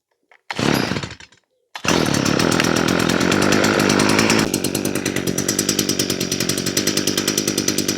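A Stihl string trimmer is cold started outdoors: a brief pull-cord rattle and sputter, then the two-stroke engine catches and screams at high revs before settling into a loud, rapid idle.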